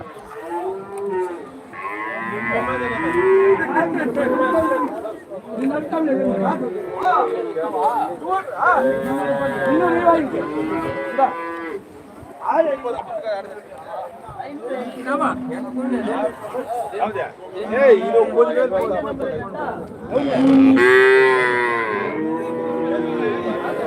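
Cattle low repeatedly at the Bagalur cattle market near Hosur, with several long, loud moos near and far, set against a background of crowd chatter.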